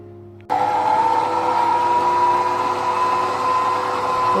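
An electric mixer starts abruptly and whirs at a steady high pitch, beating sponge cake batter, loud and close, running continuously.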